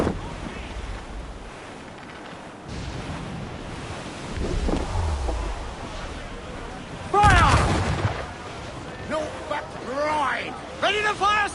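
Ship cannons boom in Assassin's Creed IV Black Flag, several heavy blasts over rushing sea and wind, with shouted voices and crew talk mixed through the battle.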